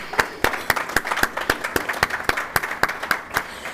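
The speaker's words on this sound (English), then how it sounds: "we're off to a good start if we're just applauding that" Gala audience applauding in a hall, a short burst of loud, evenly spaced claps close by, rhythmic and steady with no talking over it.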